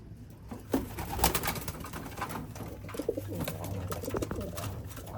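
A flock of pigeons, including young birds, coo in soft, repeated throaty calls close by, overlapping in an uneven rhythm over a low background hum.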